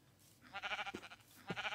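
Two close, wavering bleats from a sheep in the Minecraft video game, a longer one followed by a shorter one after a brief pause, set against soft background noise.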